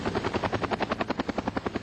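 Helicopter rotor over a remote wildfire area, its blades chopping in a fast, steady rhythm of evenly spaced thumps, loud and close with no other sounds.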